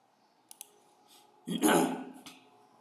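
Two quick, sharp mouse clicks sound close by in a quiet room as a browser extension is selected, followed by a burst of louder noise.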